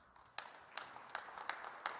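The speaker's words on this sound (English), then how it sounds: "Let's give him a round of applause" A small outdoor gathering in Minneapolis demanding justice gives a round of applause: a handful of scattered, fairly sharp claps at uneven intervals rather than a full ovation.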